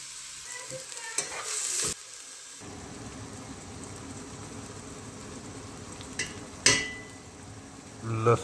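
Finely chopped onions sizzle steadily in a little hot oil in a pan for a quail karahi, a close, continuous frying hiss broken by a few short stirring clatters.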